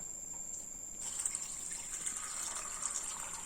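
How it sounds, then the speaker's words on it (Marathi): After a moment of quiet hiss, running water starts and pours steadily over sago in a bowl, a soft continuous gushing. "पाणी टाकून 1 ते 2 वेळा धुवून घेणार आहोत"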